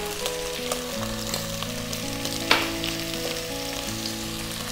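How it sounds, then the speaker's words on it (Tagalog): Celery, carrot and garlic hit a hot pan with browned beef for Filipino beef mami, setting off a steady crackling sizzle with one sharper splash midway, under background music. "Lalagyan na po natin yung ating celery, carrot,"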